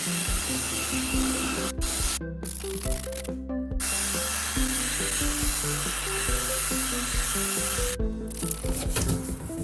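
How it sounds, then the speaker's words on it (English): A headlight lens being wet sanded with 1500 grit sandpaper on a low-speed drill gives a continuous close wet rubbing and hiss, with motor hum underneath and a few brief stops. "you're just going to keep adding water and keep sanding away"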